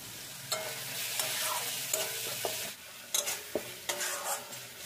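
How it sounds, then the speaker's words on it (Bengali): A spoon stirs spice masala and tomato in a pan, with scraping strokes over a soft sizzle of cooking oil, repeated in irregular bursts and close by, with no talking. "এবার সমস্ত মশলাগুলোকে নেড়ে চেড়ে ভালো করে মিশিয়ে নেব।"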